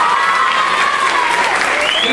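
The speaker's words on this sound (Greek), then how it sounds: "Αξίζουν ένα μεγάλο χειροκρότημα όλοι τους." Loud, dense audience applause fills a school event hall, steady clapping throughout with no talk over it.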